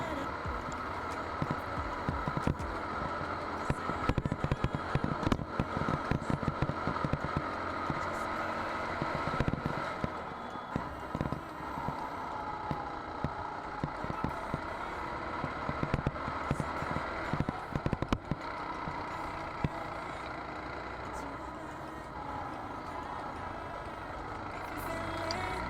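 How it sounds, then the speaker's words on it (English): Racing video game car engine running alone with no other sound, a loud continuous roar with rapid surges and dips as the car revs and shifts through a race. "here's some raw footage with just the engine"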